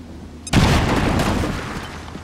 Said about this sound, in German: Werfe Granate!